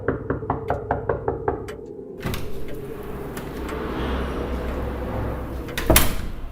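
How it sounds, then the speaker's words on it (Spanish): Knuckles knock on a house door at night, a quick run of about eight sharp raps, followed by a muffled thud and low rumbling room noise. "la joven tocó la puerta."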